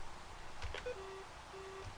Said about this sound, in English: You're going to get the fast busy because it's not online.